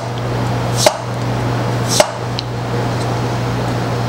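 A Maestro Wu Bombshell steel slicer knife cutting a potato, two sharp slicing chops about a second apart over a steady low hum, close and distinct.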